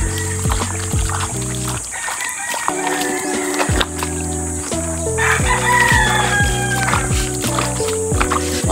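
A rooster crows loudly and close by in a backyard where chickens are being bathed, its calls repeating under and between people talking, with other fowl clucking nearby.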